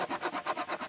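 The small saw blade of a cheap folding survival spade cuts through wood in quick back-and-forth strokes, about seven rasping pulls in under a second, close up with no talking.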